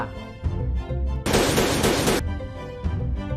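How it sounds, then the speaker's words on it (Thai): Gunshot sound effect in a Thai manga reading: a sudden loud, dense burst of rapid automatic fire lasting about a second, standing alone between quieter background sound. "เสียงปืน"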